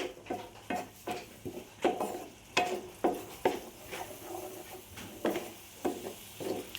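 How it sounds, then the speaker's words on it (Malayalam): Onions being sautéed with a splash of water in a pan for egg puffs filling, a series of rhythmic spatula scrapes and taps against the pan over a faint low simmer, close and quiet. "അര ഗ്ലാസ് വെള്ളം ഒഴിച്ച് ഒന്ന് വഴറ്റിയെടുക്കുന്നുണ്ട്"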